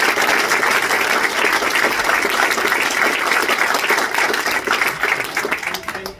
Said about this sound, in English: Give a round of applause for Smitty